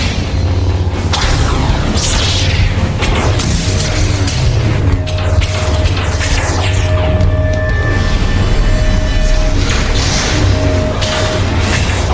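A mecha army in an animated drama opens saturation fire, with a dense, continuous barrage of booms, whooshes and crashing explosions that stays loud and unbroken for about twelve seconds.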